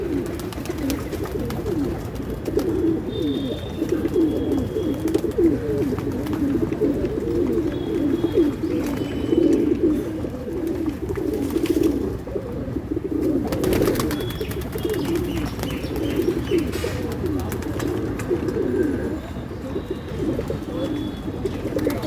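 Pigeons coo steadily and densely throughout, a continuous low warbling chorus of many birds close by, with faint occasional chirps above and no talk.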